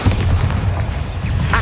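A Bombarda spell explodes in Hogwarts Legacy, a short, heavy boom with a deep low-end thump and a brief crackling tail.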